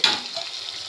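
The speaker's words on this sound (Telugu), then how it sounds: "నేను పెద్ద గ్లాస్ తోటి ఒక 1/2 గ్లాస్ వాటర్ పోస్తున్నాను" Water pours into a hot pan of ridge gourd and moong dal curry cooked with milk, giving a brief hissing sizzle that fades quickly.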